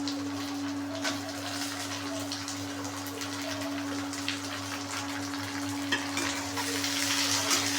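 Tomato going into a pan of onions already fried until red, with a continuous sizzle and crackle of frying that holds steady and fairly loud, with occasional sharper pops.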